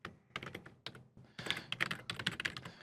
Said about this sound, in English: I do use one finger typing.